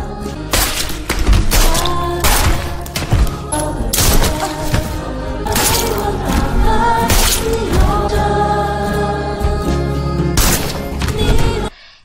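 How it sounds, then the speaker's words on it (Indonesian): Gunfire in an action film: a rapid series of sharp loud shots and thuds, one after another, packed over a dense layered soundtrack without speech. "Satu persatu para pengikut ditembak."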